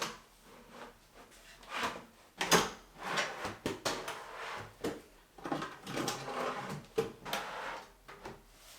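A freshly painted wooden kitchen drawer is fitted into its unit in a camper van build and slid shut, giving a run of close knocks, scraping slides and wooden bumps spread over several seconds.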